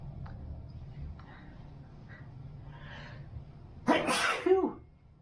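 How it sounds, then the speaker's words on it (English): A single sharp sneeze bursts out near the end after a quiet stretch of faint room noise and soft breathing, loud and close. "I'm gonna sneeze"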